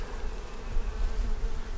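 Honey bees buzz around a honey-bound beehive as they build out comb, a close steady droning hum with no voices.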